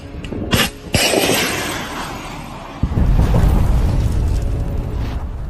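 Ammunition inside a military vehicle detonates in a massive, loud explosion after a Javelin missile strike, with sharp blasts followed by a long, roaring rumble and crackle.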